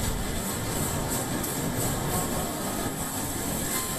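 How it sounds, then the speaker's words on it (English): Subway station in Ishikawa, Japan, during an earthquake: a dense, steady roar of rumbling and rattling like a train in motion, fairly close and unbroken throughout. "This is a subway station in the Ishikawa prefecture."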